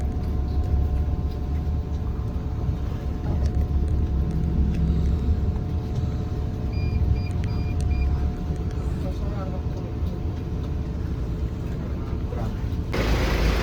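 Buses pull into a busy roadside restaurant on the road to Bali, making a steady, close, low engine rumble that continues without a break.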